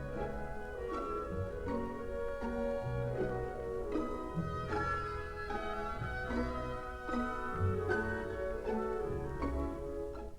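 An orchestra plays the theme of Brahms's Symphony No. 4, strings and winds sounding together in a flowing, rhythmic passage, full and continuous without speech.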